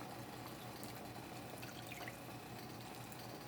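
Water is poured from a can into a cooking pot of turkey wings, a faint, steady trickling splash close by, with no one talking.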